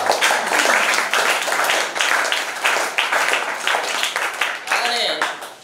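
An audience claps together at a notebook distribution event for students, a dense and sustained burst of applause that is loud and close. A voice comes in over the clapping near the end.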